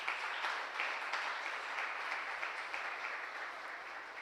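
A church congregation applauds together, a dense, steady wash of many hands clapping at moderate level throughout, with no voices on top.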